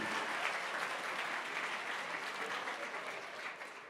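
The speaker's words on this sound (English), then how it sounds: "Give our friends at Terranea Resort a big round of applause." Guests at a Habitat for Humanity gala ball give a warm round of applause for Terranea Resort, dense steady clapping from a large crowd that holds strong and tapers slightly at the end.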